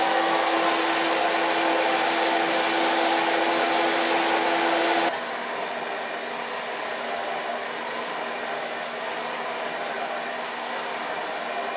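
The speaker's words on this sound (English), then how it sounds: "blow dry it with a medium brush, and of course start in the longer lines" A handheld blow dryer runs loud and steady at close range while hair is dried with a medium round brush, its airflow note dropping partway through as the setting or angle changes; no one talks over it.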